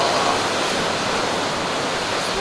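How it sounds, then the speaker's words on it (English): Ocean surf surging and crashing against a rock on the rocky Newfoundland coast, a loud, continuous broadband wash of water with no voices over it. "Every once in a while, this huge wave comes and hits the rock."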